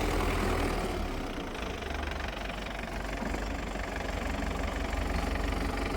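A Belarus tractor engine runs steadily nearby, a continuous low rumbling idle with a faint knocking pulse and no talk over it.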